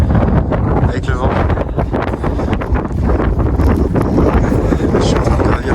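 Strong, gusty wind buffets the microphone on the summit of Acatenango volcano in Guatemala, a loud continuous roar with rumbling low-end bursts and no let-up across the whole stretch.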